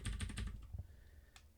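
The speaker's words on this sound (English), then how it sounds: "I'm going to use my keyboard and go all the way back around to the preset." Quick bursts of keystrokes on a computer keyboard, fairly close and clear, with a brief pause and a few final key taps, used while setting a camera preset.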